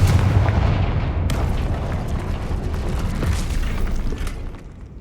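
A Confringo fire spell blast in Hogwarts Legacy lands as a deep, rumbling explosion with a burst of crackle just over a second in, then the boom rolls on heavily and fades toward the end.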